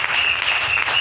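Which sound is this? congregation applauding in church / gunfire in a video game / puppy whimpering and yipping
congregation applauding in church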